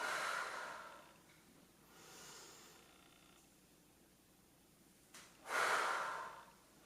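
Forceful breaths exhaled during a dumbbell upper-body strength workout come through as three close, airy rushes, at the start, midway and near the end, separated by quiet pauses.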